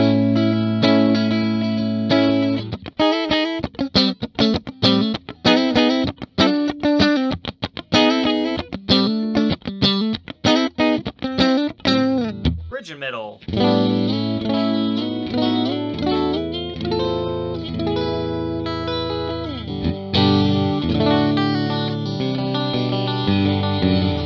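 A bright 1994 Gibson Nighthawk Custom electric guitar on neck and middle pickups together plays chords and quick strummed riffs with effects, steady and loud throughout, sustained ringing chords in the second half.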